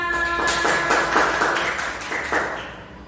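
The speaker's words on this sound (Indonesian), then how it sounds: "Tepuk tangan untuk kita semua." A teacher and class in a classroom clap together, a dense burst of hand claps that holds steady for about three seconds before thinning out.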